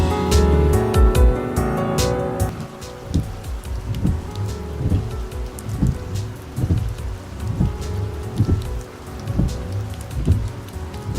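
Heavy monsoon rain on a trek at Ranipuram in Kasaragod, a dense steady patter with sharp drips and repeated low thuds throughout, loud and close, with no speech.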